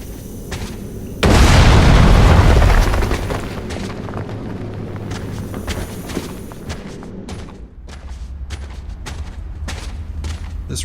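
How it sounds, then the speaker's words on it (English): A loud, fiery video game rock explosion fueled by gas bursts out suddenly, roaring for a couple of seconds before settling into a low rumbling, crackling burn. "we can turn on the gas to create a bigger, more fiery explosion"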